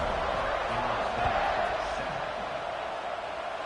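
A stadium crowd at an FSU at Auburn college football game roars in a steady, broad wash of cheering before kickoff, with a commentator talking over it.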